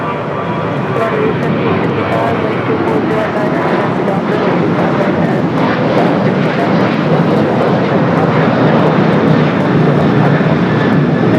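An airliner roars at the runway at LAX, loud, steady and close throughout, with a voice talking over the engine noise.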